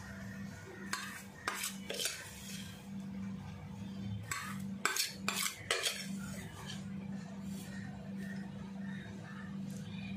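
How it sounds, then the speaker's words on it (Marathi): A metal spoon clinks and scrapes as it scoops jaggery into a sweet-and-sour raw mango pickle, with a few sharp taps clustered around the middle over a steady low background hum. "आता मी चमच्याने घालते मोजून."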